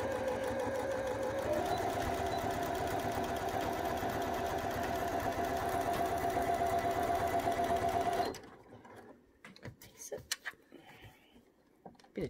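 A Janome sewing machine stitches down the edge of a black cotton face mask, a steady close whirring run that stops abruptly near the end, followed by faint handling noises.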